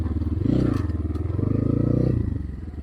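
A Kovi Max 300 Chinese enduro motorcycle idles steadily up close with a carburetor freshly adjusted, its single-cylinder putter rising briefly to a fuller revving pulse twice before settling, loud and continuous with no talk.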